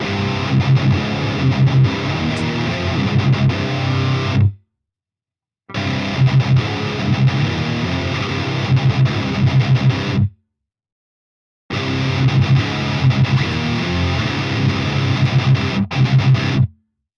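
Distorted electric guitar played through an amp simulator plugin, three separate riffs each roughly five seconds long with brief silent gaps between, comparing tube types such as 6L6 and EL34.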